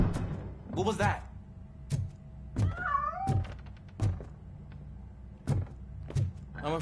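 A cat meows in the RoboCop video game, one clear rising-and-falling cry among regular heavy thumping footsteps and short mechanical knocks, fairly close and moderately loud.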